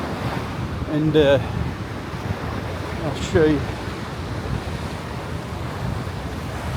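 Ocean surf washes steadily onto the beach at Long Beach Island, a broad, continuous rush mixed with wind noise on the microphone. A person speaks briefly over it.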